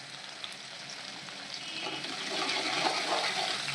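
Chopped onions fry in melted butter and a spoon of oil, a soft steady sizzle that grows a little louder toward the end, with no talk.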